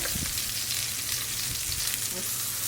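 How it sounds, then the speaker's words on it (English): A steak sears in a very hot pan, producing a loud, dense, continuous sizzle that stays steady for the whole short stretch, close up and with no voices. "It's going to take a few minutes to sear on each side"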